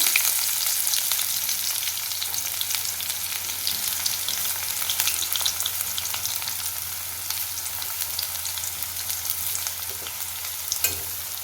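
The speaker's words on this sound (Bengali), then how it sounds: "ভাজা তেলের মধ্যে আমি কেটে রাখা পেঁয়াজ কুচিগুলো দিয়ে দিচ্ছি" Chopped onions sizzling in hot oil in a pan while an egg curry is being cooked, a steady, loud, close frying hiss that continues without pause for the whole stretch.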